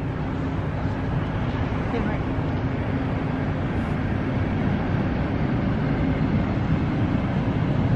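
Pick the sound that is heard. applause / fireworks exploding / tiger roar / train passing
train passing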